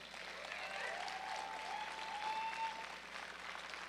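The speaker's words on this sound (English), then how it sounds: "Please give them a round of applause." Steady crowd applause greets a row of powerlifters at a national powerlifting championship awards session, a continuous moderate wash of clapping with a faint tonal whine drifting through it.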